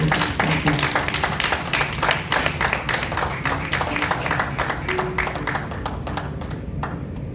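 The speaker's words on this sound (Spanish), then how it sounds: "Denles un aplauso" A church congregation applauds, loud and close, with sharp overlapping claps and taps in a continuous dense burst that tapers slightly toward the end.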